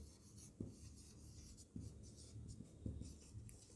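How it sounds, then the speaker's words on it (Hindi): Pen or chalk scratches across a writing surface in short strokes with small taps, close and quiet, and no voice is heard. "पहले लिख लेते हैं"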